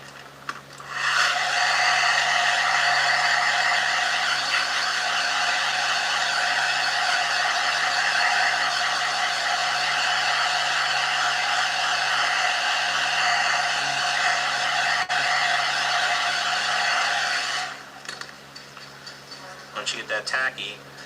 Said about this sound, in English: Just with the hairdryer.